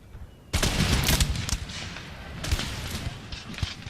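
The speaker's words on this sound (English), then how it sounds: "Oh, look at this, the gunfire." Musket volleys and rolling gunfire crackle in the strategy game Empire: Total War, a sudden loud burst followed by continuous fusillade with further sharp volleys, fairly close and dense.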